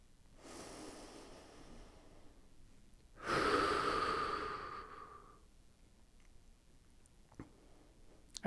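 A slow, deep breath drawn in during a single-leg Romanian deadlift, heard up close as a soft inhale followed by a louder, rushing intake of air that fades gradually, with no talking.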